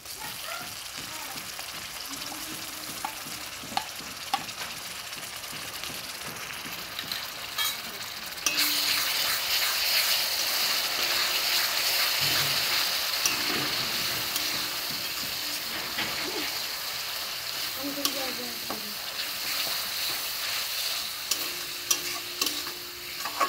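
Ginger paste and dry chili powder are stirred and fried in a pan for a jackfruit curry. Low scraping stirs come first, then a loud, steady oil sizzle takes over, with occasional clinks and a faint voice in the background.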